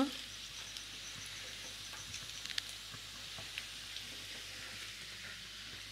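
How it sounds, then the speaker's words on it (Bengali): Chow mein noodle pakoras fry in hot oil, a steady close rain-like sizzle with faint scattered pops running throughout. "এবার আমি আরেকটা পাশ একটু ভেজে নেব।"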